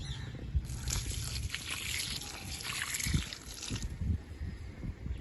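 Water splashes and trickles steadily onto soil and leaves of a potted plant in a terrace garden, a close, continuous pouring with some clattering handling noises.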